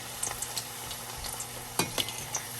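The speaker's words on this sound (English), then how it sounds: "Just going to fry our corn tortillas just until they get bubbly" Corn tortillas frying in hot oil in a pan, a soft continuous sizzle broken by a few sharp stirring and scraping knocks, close and fairly quiet with no voices.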